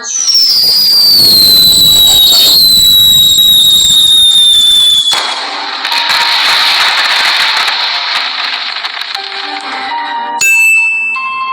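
Loud crackling bursts of cartoon firecrackers mixed with whistling, rising and falling tones, dense and continuous, followed by a brief ringing chime at the end.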